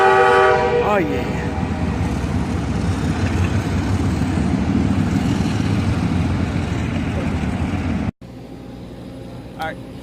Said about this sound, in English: Got some of that train action.